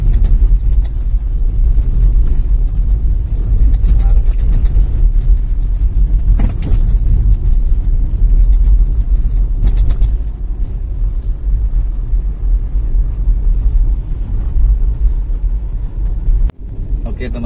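A 2014 Nissan Grand Livina's engine hums steadily while driving, a smooth low rumble with road and wind noise throughout, fairly loud and continuous with people talking over it at times.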